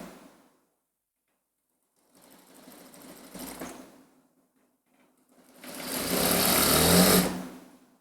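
A sewing machine runs in two bursts while stitching a kurti, a short quieter run followed by a louder, faster whirring stretch that fades out, close by with no talking.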